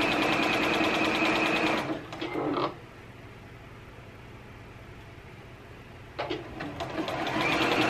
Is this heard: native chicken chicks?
no